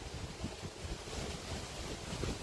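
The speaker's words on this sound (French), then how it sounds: "Ah, le vent commence à souffler très fort." Strong outdoor wind blowing steadily, a dense, constant broadband rush with gusty swells and rumbling low buffeting across the whole stretch, with no speech.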